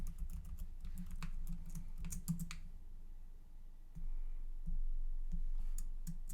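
Password typed on a MacBook Pro M2 Max keyboard, a quick run of light, close key clicks in an irregular rhythm, a pause, then a few more scattered taps over a low background hum, with no speech.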